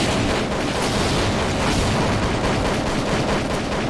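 Rapid, dense gunfire in the Reisen Simulator video game, a loud continuous rattle of shots that blurs into a sustained roar with no pauses across the whole stretch.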